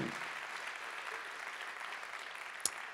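An audience at a festival opening applauding the event's service providers, a steady wash of clapping from a crowd heard from a distance, fairly faint, with one sharper clap near the end.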